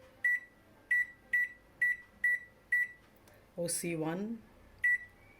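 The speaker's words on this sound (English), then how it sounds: "I'm placing it in the microwave oven and I'm selecting the category just for you" An LG MC2841SPS microwave oven gives a row of short, evenly spaced, bright electronic beeps as a cooking category is chosen, and a voice speaks briefly between the last beeps.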